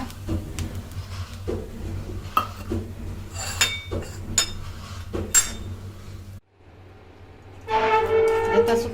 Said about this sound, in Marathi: तर हे सगळा काढून मिक्सरला लावणार